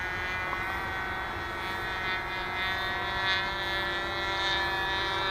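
An OS .40FP nitro glow engine on an Ultra Stick RC airplane, buzzing with a steady, high-pitched whine as the plane makes a high-speed touch and go, holding a fairly even level throughout.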